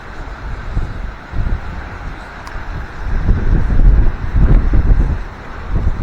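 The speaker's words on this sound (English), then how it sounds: "we got some windy stuff going on over here." Strong gusting wind on a blustery Bay Area day roars through trees next to a blown-over fence, swelling and easing in broad rushing surges with heavy low rumble and microphone buffeting, loudest in the second half.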